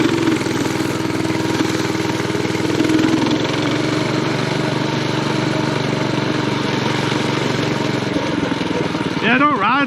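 Coleman CT100U minibike with a swapped-in Predator 212 engine running steadily, a continuous close mid-pitched engine drone with voices in the background.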